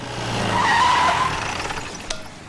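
A jeep brakes hard and skids, its tires squealing in a rising, wavering whine over engine rumble, followed by a sharp impact-like crack as the noise fades.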